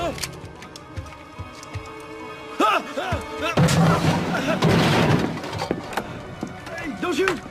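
Gunfire and crashing impacts in a Christmas TV movie scene, a burst of loud sharp bangs and debris in the middle after a quieter stretch, with people talking around it.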